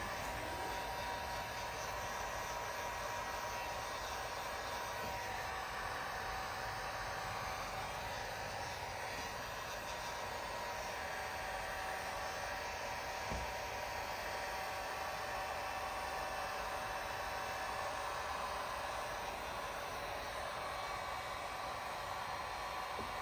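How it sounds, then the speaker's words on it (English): A heat gun blows a steady, even hiss of hot air onto tint film laid over the tail light of a 2020 Toyota Highlander, running unbroken and fairly quiet throughout with no voices. "I'm going to grab the heat gun, heat the film a little bit"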